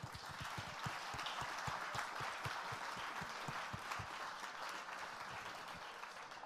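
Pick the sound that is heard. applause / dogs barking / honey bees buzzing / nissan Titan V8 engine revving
applause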